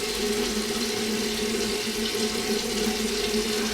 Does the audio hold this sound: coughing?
no